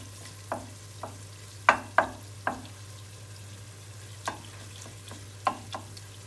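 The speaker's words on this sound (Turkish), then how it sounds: "Salçanızı salçanın kokusu çıkana kadar kavurun." Tomato paste frying in a pan for bulgur pilaf, stirred with a utensil: sharp, intermittent scrapes and knocks over a faint steady sizzle and a low constant hum, with no talking.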